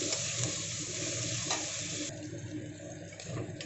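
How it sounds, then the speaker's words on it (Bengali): Fish oil with a pinch of turmeric sizzling in a pan, a steady hissing fry heard close and at low volume without any talking. "সামান্য একটু হলুদ গুঁড়ো দিয়ে দিলাম, দিয়ে এবার মাছের তেলটাকে ভালো করে আমি ভেজে নেব।"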